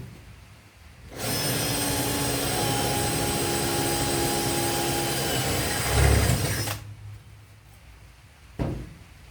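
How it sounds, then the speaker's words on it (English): A power drill whirs at a steady high pitch for several seconds as it bores a hole through a plate on a twin 459cc mini airboat build, then stops, followed by a brief clunk. "Drill a hole through your plate."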